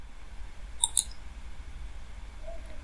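Two quick, faint computer mouse clicks sound close together while opening Command Prompt on Windows, followed by quiet low background hum with no talking.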